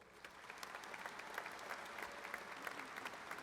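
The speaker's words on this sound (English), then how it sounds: "Please help me in thanking these individuals for being here with a round of applause" Round of applause at a spring 2022 Gulf Coast commencement ceremony, faint and distant clapping from a large audience, steady and dense without a break.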